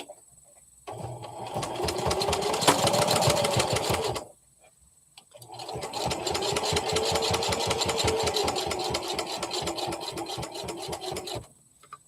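A sewing machine stitches a quarter-inch seam at 2.5 stitch length, running over pins, in two long steady whirring runs separated by a short pause.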